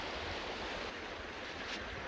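Big River, an alpine mountain river along a long-distance hiking trail, rushes steadily nearby as a broad, continuous wash of flowing water with no voices over it.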